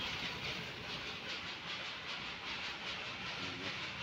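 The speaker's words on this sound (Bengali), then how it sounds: "ট্রেনটি আসছে।" A Darjeeling Himalayan Railway heritage mountain train rumbles steadily nearby in Darjeeling with a continuous broadband roar and faint clattering, holding a constant loudness throughout without any voices.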